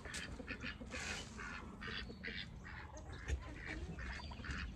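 Ducks quack repeatedly in a busy, overlapping chorus close by, with steady outdoor noise underneath.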